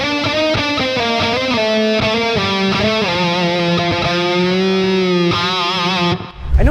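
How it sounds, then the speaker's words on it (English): Electric guitar played through a Line 6 amp modeler's dynamic bloom reverb, a run of sustained melodic notes with a swelling, lingering reverb tail, loud and alone before cutting off near the end. "Let's go into the reverb. Let's go with something like this dynamic bloom."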